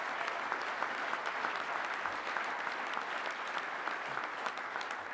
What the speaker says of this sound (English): I hope you're applauding for unions